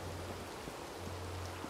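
Steady rain in the video game RedM hisses evenly throughout, with a low hum underneath and a few faint taps.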